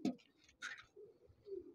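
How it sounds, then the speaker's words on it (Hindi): Green pigeons give soft, faint coos and short calls, a few low murmuring notes spaced over a moment, distant and quiet. "तो बहुत खूबसूरत हरे कबूतर दोस्तों बहुत अच्छे हैं"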